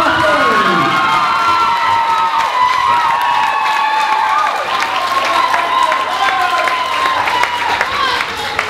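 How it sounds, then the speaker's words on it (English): An audience applauds and cheers at the Carracastle Lass 2012 event. Loud, close clapping blends with whoops and children's shouts and runs throughout, with people talking over the crowd. "round of applause, please"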